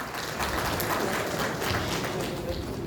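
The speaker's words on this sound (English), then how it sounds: "A big round of applause." Applause for distinguished guests at a Canara Bank exporters and corporates meet in Bhubaneswar, a dense wash of crowd clapping heard from some distance, steady and moderately loud.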